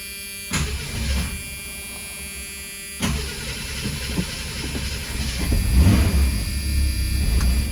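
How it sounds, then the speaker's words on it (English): A car engine cranks and catches, with a sharp start, a second attempt a few seconds later, then the motor fires and settles into a rough, loud idle close by, no talking over it. "So let's fire it up."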